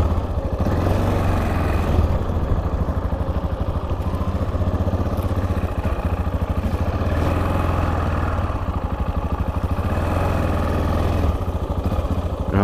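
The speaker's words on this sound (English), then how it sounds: "I've got some Harleys in here." Several Harley-Davidson motorcycles idle together nearby, a loud, steady low rumble with an uneven lumpy beat that holds constant from start to finish with no voices.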